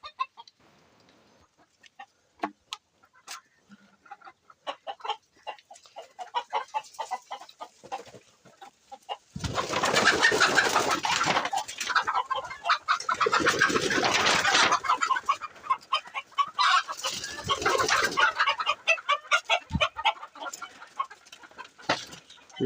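Country hens kept inside a farm coop cluck and squawk, starting with scattered faint calls, then swelling into loud, busy bursts of clucking from several birds midway before settling into quieter, intermittent clucks.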